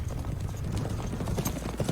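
Horse hooves clip-clop in a steady, busy patter from the 2007 western film 3:10 to Yuma. The sound is dense and continuous, set against a rumbling film soundtrack.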